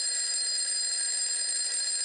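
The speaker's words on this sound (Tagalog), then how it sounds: "Ang pamilyar ngunit nakakainis na tunog ng alarm clock ang muling bumungad." An alarm clock ringing steadily, a continuous bright electronic tone with harsh high overtones, loud and unbroken from start to finish with nothing else heard.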